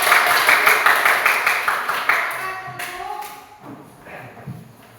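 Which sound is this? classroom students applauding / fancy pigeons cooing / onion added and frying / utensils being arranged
classroom students applauding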